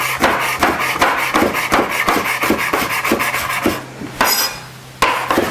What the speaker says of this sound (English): So you're going to first slice it crosswise.